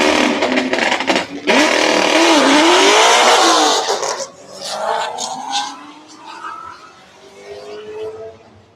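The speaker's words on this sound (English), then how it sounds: "little Camaro versus Mustang action on the start" A Camaro and a Mustang launch off the line at a drag race, their engines roaring loud and close with rising revs, then fading into the distance as the cars pull away, leaving a fainter trailing drone.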